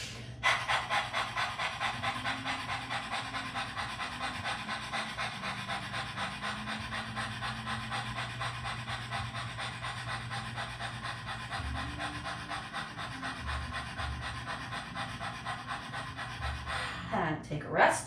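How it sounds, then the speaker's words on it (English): A person doing the rapid yoga dog breath with the tongue out, fast rhythmic panting that goes on steadily at close range for many seconds and ends with a louder breath. "now you're going to do your dog breath."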